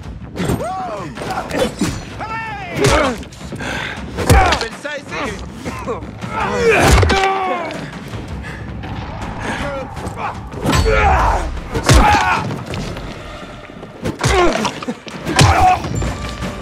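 A windmill is blown up in the video game Dying Light 2, with heavy thuds and crashing bursts breaking through. Excited players talk loudly almost the whole time over the game sounds.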